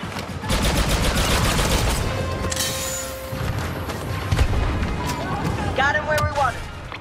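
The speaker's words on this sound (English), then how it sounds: "Grenade out." Grenade blast and rapid blaster fire in the Star Wars Battlefront 2 multiplayer battle on Maz's Castle, loud continuous shooting bursts with a booming explosion mid-way, voices talking over the gunfire.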